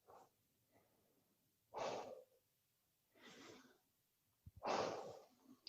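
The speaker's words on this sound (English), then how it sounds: "And breathe." Deep, slow breaths taken during a yoga stretch, three strong exhalation bursts with softer inhalations between, close and clear with no talking.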